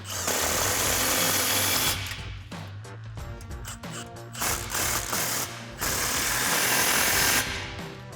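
An impact wrench with a 15mm socket hammers exhaust clamps tight over the axle on a 2024-2025 Toyota Tacoma. Loud rattling bursts come in close, separated by brief pauses, and no one speaks.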